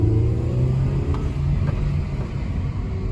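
Steady, close rumble from a 2016 VW Jetta turbo engine with a broken wastegate actuator, droning evenly with slight swells in pitch, strained and low on power.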